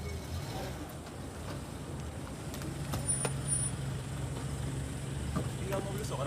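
Ministers' new Renault 5 official cars arrive for a Wednesday Council of Ministers meeting, heard as a steady rumble of road traffic with occasional brake hiss and faint voices in the background.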